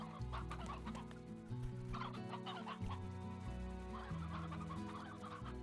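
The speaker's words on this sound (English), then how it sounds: "I have quite a bit of chickens in here now." A flock of chickens in the video game Slime Rancher clucks in scattered, overlapping bursts, moderately close, layered over a continuous game music track.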